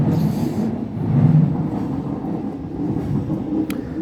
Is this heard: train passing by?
yes